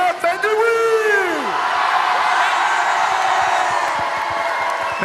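A large crowd at a Téléthon rare-diseases march cheers, whoops and yells loudly and continuously, with a rising shout at the start and a dense wall of voices and applause-like noise filling the rest.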